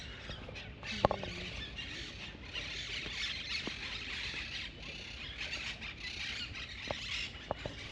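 Birds chatter and squawk continuously in an open town plaza in Uruguay, with scattered sharp calls over a steady broadband background of ambient noise.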